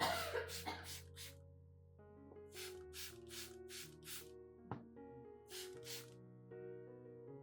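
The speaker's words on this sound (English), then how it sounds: "Misting with diluted lemon solution helps clean the leaf surface" Several short hissing bursts of a spray bottle misting orchid leaves with diluted lemon solution, coming in quick clusters over a steady soft musical background.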